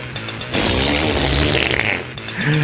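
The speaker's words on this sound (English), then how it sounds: "This is the sound of a cow threatening the world." A long, loud, rumbling cow flatulence sound effect with a brief break near the end, blaring up close with no talking.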